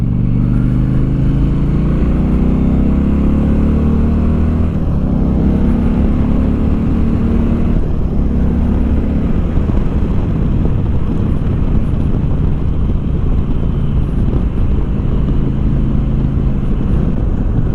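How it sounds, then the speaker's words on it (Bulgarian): Indian Challenger 2021 motorcycle exhaust in its medium sound mode, a steady loud low rumble that rises and falls through several revs, close up and with no talk. "Това е среден режим на звука на аспосите."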